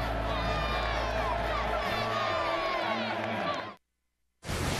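A packed college football stadium roars as the Texas A&M 12th man crowd cheers and whoops loudly and continuously, then cuts to brief silence before the noise returns.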